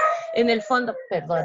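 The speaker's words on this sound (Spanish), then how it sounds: "ese es mi perro, espero que no moleste mucho." A pet dog barking and yipping several times in quick succession indoors, close by, while a person talks over it.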